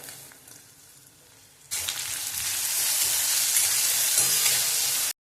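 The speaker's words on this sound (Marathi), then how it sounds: "हे मसाले मस्त परतून घ्यायचं" Spices, chopped tomatoes and curry leaves hit a hot pan and sizzle loudly after a quiet start, with stirring in a steady, bright frying hiss.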